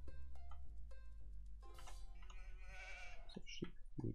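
Sheep bleat in the Age of Empires 2 strategy game, a few short nasal calls rising over steady game music and clicks, fairly clear and mid-level.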